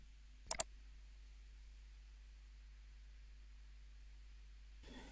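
A computer mouse clicks on an on-screen button, two quick sharp clicks close together against faint steady background hiss in a quiet room.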